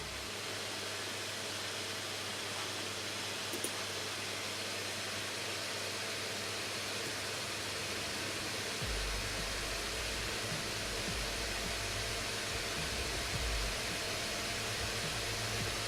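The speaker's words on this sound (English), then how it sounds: "you can hear the spooling up of the fan" Fan of an ASUS ROG Zephyrus S GX502 gaming laptop in turbo mode, a loud, steady, broadband whoosh that grows fuller and deeper partway through as it spools up.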